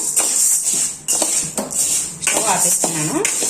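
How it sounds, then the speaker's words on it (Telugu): Roasted urad dal being scraped and tipped from a metal pan onto a plate makes close, repeated clinks and scrapes of a spoon against metal, over a steady background hiss. "ఇప్పుడు దీన్ని ఒక ప్లేట్లోకి తీసుకొని పూర్తిగా చల్లారిద్దాము"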